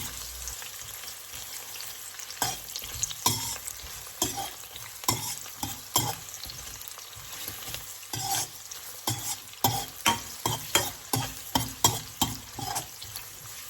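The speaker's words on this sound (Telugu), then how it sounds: "ఆయిల్ బాగా వేడెక్కిన తర్వాత ఫస్ట్ ఆనియన్స్ వేసుకుంటున్నాను ఆనియన్స్ పచ్చిమిర్చి రెండు కలిపి వేసేసుకొని బాగా కలిపెట్టుకున్నాం" Onions and green chillies fry in hot oil while a spoon stirs them, in a chicken curry being cooked. A steady sizzle runs throughout, with repeated scraping and clanking strokes from the stirring, up close and without talk.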